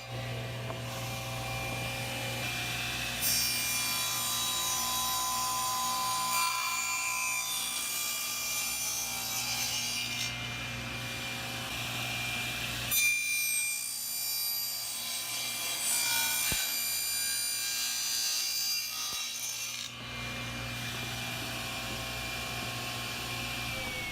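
A hand saw cuts around the head of a wooden mallet made from a wild tree, with long steady rasping strokes in extended runs and brief pauses between them, close and alone.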